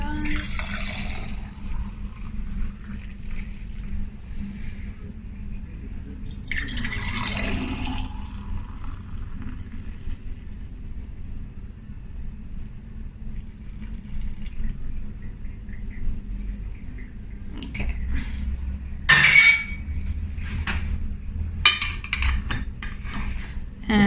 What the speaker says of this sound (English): I just gave them a rinse under the tap just to make sure there was no yogurt anywhere there.